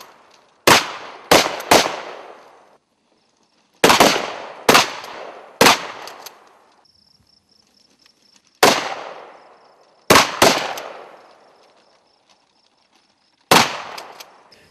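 AR-15 rifle shots fired in quick pairs and triplets during a one-handed shooting drill, sharp loud cracks with brief decaying echoes separated by short pauses, no talking.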